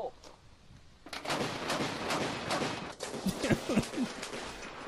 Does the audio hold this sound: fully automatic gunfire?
yes